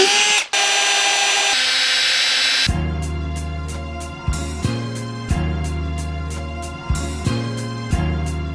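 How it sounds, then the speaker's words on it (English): A power drill whirs steadily at high speed, drilling pilot holes in a widebody kit on a Lamborghini Aventador, its pitch dipping and catching repeatedly as the bit bites, loud and close. "We're gonna drill pilot holes in the Widebody kit"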